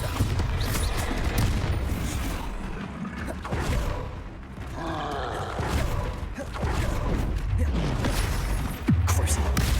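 Bombarda spell blasts in Hogwarts Legacy go off as a series of heavy booms and crashing impacts mixed with clattering game effects, with voices sounding between the explosions.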